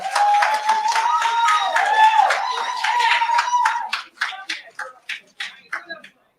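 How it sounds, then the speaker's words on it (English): A voice speaks over a sustained tone, then a short burst of scattered hand claps trails off. "One more round of applause, please."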